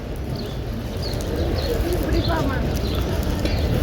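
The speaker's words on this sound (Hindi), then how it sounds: "ये देखें माशाल्लाह कितने सारे कबूतर एक साथ" Flock of pigeons cooing in a crowd of birds near a mosque in Madinah, soft repeated calls and wing flutters over a busy, noisy background of outdoor bustle.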